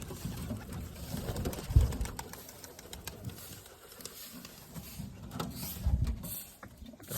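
Soft pigeon coos rise twice from a quiet background, with faint rustling and scattered clicks between them.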